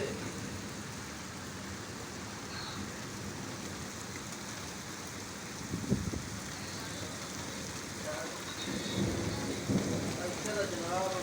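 Heavy rain and strong wind pound down during a storm in Bahria Town, Lahore, as a steady wash of noise with a few louder gusts and patters, and faint voices under it.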